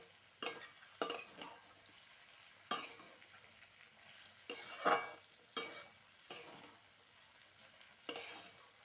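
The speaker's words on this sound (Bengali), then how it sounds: "তৈরি করে রেখেছিলাম সেটা দিয়ে দেবো ভালো করে মিশিয়ে নেব সবজির সাথে" Bottle gourd greens mixed with vegetables and a prepared chapor in a pan, with repeated spatula scrapes and stirring strokes in a loose rhythm over a faint sizzle, close and quiet.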